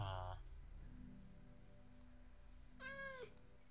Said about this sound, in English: cats spawn here too